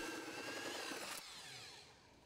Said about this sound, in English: a 3-inch hole saw bores a hole large enough for the pipe